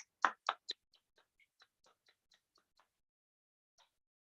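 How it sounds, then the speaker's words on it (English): A few people clap in a Zoom meeting, close and slightly uneven: several firm claps at first, then a thin, sparse patter of single claps fading to near silence. "Let's give a huge round of applause to all of the speakers."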